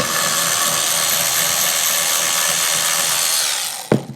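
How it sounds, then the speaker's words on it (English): A power tool whirs steadily and close as it zips bolts off a transmission valve body from a 549,000-mile transmission, a continuous buzzing drone ending in a sharp metallic clack. "Now I'm going to start zipping bolts."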